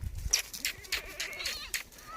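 Goats at a goat market bleat repeatedly in short, nasal calls, several overlapping from moderately near amid a busy background.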